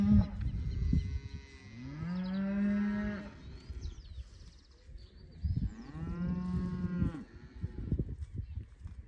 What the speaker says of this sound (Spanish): Ustedes ya pueden ver ahí las vacas de fondo